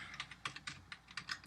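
Code being typed on a computer keyboard, a brief run of crisp, evenly spaced keystrokes at close range, with no talking.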